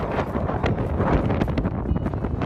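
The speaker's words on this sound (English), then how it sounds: "It turned out to be extremely cold and windy, gusts coming in at over 60 miles per hour" Strong wind gusts of over 60 miles per hour buffet the microphone in Hungry Valley, a loud roaring rush that surges and pulses with no voices.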